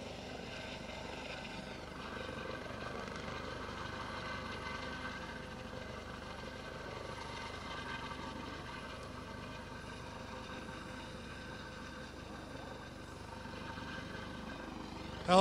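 A helicopter hovers over water during a search and rescue training exercise as a diver prepares to drop in, its rotor and engine droning steadily at a moderate distance without letup.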